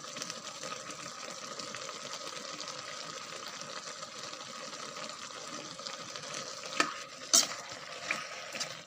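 Pork stir-fried with mushrooms and holy basil in a hot pan gives a steady, close sizzle, with a few sharper scrapes and clinks of a utensil against the pan near the end.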